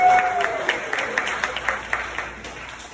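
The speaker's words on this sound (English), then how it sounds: "half the room that has not interacted this entire time just clapped" A festival crowd at Huntington Music and Arts Festival breaks into scattered, rhythmic clapping, a steady patter of individual hand claps filling the room at moderate volume, with no distinct cheering.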